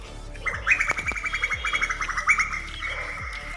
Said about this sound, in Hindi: पक्षी बहुत शोर मचा रहे हैं